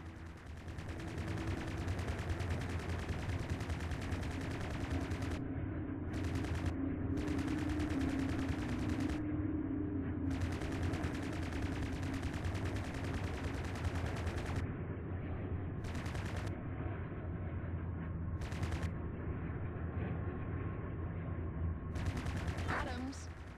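Rapid plasma cannon fire from a spacecraft in the Strike Suit Zero space combat game on Xbox One, continuous automatic bursts that stop and start over a steady engine drone, loud and close throughout.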